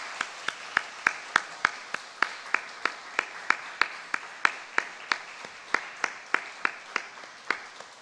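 A church congregation claps in a steady, rhythmic beat during an early-morning worship service, sharp distinct claps repeating at an even pace, fairly faint and with no talking over them.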